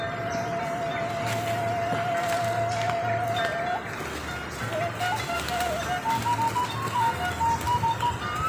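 Birds in a mini aviary give soft, repeated coos, with one sustained call and later rising notes over steady background noise and a low rumble.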